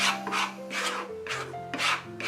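A palette knife scraping cornstarch impasto paint across a painting in rhythmic rasping strokes, about five close passes, loud and textured, with no talking.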